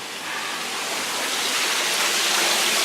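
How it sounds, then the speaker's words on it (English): A water wall fountain runs steadily at a haunted tent attraction, giving a continuous broadband splashing rush like a waterfall that swells slightly and stays close and even throughout, with no voices. "the water wall is at least running"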